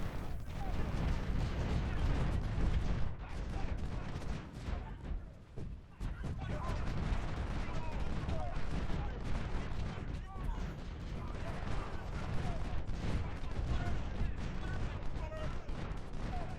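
Artillery fire in the Civil War strategy game Ultimate General: Civil War, dense, steady volleys of booming cannon and rattling gunfire that run continuously under a voice.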